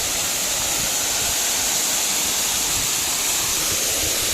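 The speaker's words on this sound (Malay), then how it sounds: "Air terjun Teket." Teket waterfall on Tioman Island pours in a steady, loud, unbroken hiss of falling water heard close by, with no pauses or other sounds breaking through.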